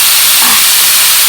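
Beef stir-frying in a hot pan makes a loud, close, continuous hissing sizzle that lasts only a moment.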